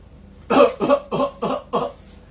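Five quick, harsh coughs in a row, close and loud, forming one racking fit.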